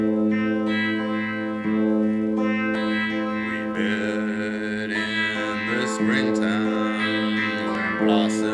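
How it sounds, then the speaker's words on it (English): Guitar played slowed down through a flange effect, giving dark, swirling sustained chords with heavy harmonic shimmer and distortion, steady and close throughout, with no voices. "if I slowed it down a little bit, put a bit of flange, it sounds even more dark."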